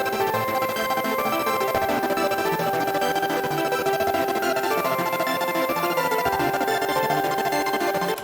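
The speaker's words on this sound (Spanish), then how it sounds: "Para eso voy a utilizar un lead que está saliendo de igual una expansión que se llama 8-Bit" An 8-bit style lead synth from an expansion pack in FL Studio, playing a hyperpop melody doubled an octave up: bright, buzzy chiptune tones running continuously and loudly over a dense, full mix.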